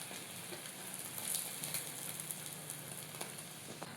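A masala omelette with onions frying in a pan gives a soft, steady sizzle with faint crackles and pops, low and continuous throughout.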